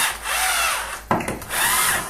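A cordless drill bores through drywall or concrete board behind tile: a loud grinding whir, a short pause with knocks and scrapes, then the drill spins up again close by.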